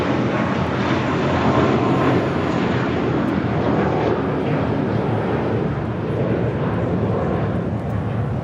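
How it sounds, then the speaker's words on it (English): An American Airlines A321 jet departs Los Angeles International Airport, its broad steady engine roar loud and continuous throughout without a break. "That was American Airlines flight 32 heading to JFK, then A321."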